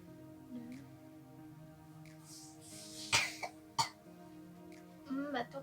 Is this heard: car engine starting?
no